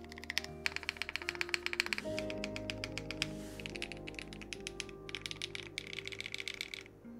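Rapid typing on a gasket-mounted mechanical keyboard, stiff and not very soft, rattles along in close, bright bursts of clacks with brief pauses, over a low steady hum.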